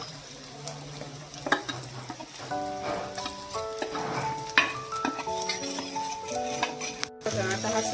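A mixture of sabudana, peanuts and salt being stirred into a hot frying pan, with scraping strokes and a soft sizzle. Background music plays over it.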